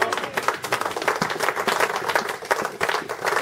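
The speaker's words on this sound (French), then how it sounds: "Est-ce qu'on peut applaudir pour nous?" A church congregation in Strasbourg claps together after a preacher's call, a dense, lively wash of hand claps with slightly uneven peaks, steady and fairly loud throughout.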